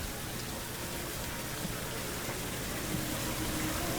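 Steady hiss of water rushing outdoors, constant and even throughout with no pauses, like rain or a stream nearby.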